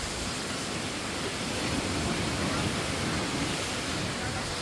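Jeongbang Waterfall on Jeju Island, a 23-metre fall with spray, roars as a steady, dense rush of falling water that fills the whole clip at an even level.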